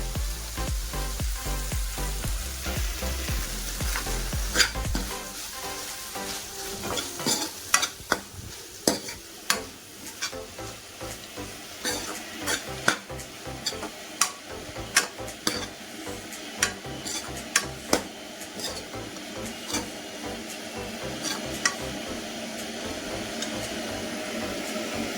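Tomato and vegetables cook in a pan for tomato saaru, giving a soft continuous sizzle with frequent clicks and scrapes of a spoon stirring against the pan.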